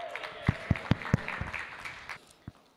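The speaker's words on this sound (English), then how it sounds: "Round of applause." Guests at a 60th birthday celebration give a brief round of applause, a few sharp, close hand claps spaced out over a couple of seconds, trailing off into sparse scattered claps.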